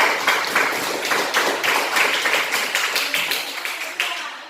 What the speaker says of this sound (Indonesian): tepuk tangan buat Kantara.